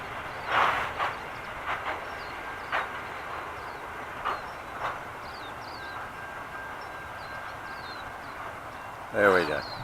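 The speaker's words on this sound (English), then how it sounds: "That was a big train. It was. Had to be a kilometre long." A kilometre-long freight train of flat cars rumbles past at a steady distance, with broad noisy wheel and car sounds, a few sharper clanks, and a louder burst near the end.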